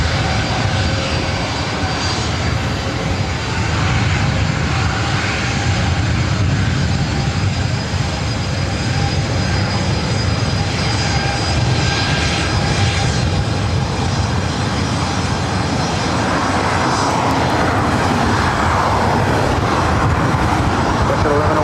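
A jet airliner takes off from runway 24 right at LAX, a loud sustained engine roar that builds and swells across the whole stretch, with faint radio chatter beneath.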